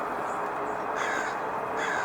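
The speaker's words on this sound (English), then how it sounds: "The crows aren't happy." Agitated crows near a Cooper's hawk perched in an evergreen by an elementary school, with several harsh caws repeating in quick succession, loud and close with no talking.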